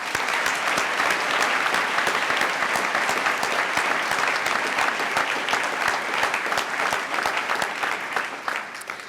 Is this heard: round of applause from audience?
yes